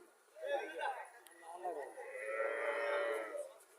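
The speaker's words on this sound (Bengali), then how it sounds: "ফিজিয়াম জাতের গাভী" A Friesian dairy cow on a farm lets out a drawn-out moo, close and moderately loud, rising and holding for a few seconds with a short break in the middle.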